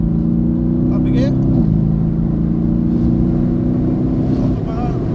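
A 500 hp Mercedes-AMG GTS accelerates on a wet track. The engine drones loud and close and its pitch shifts as it climbs, while someone speaks over it throughout.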